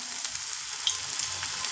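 Drumstick flower fritters (sajina phuler bora) frying in hot oil over moderate heat, giving a steady close hiss and crackle with small pops and no talking.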